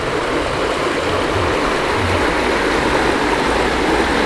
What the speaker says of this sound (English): What a pretty creek.